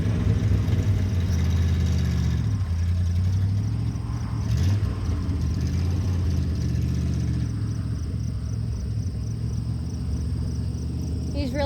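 A 1965 Ford Mustang Fastback barn find idles steadily with a low, continuous engine rumble throughout, close and loud, with a faint high insect-like whine over it and no talk.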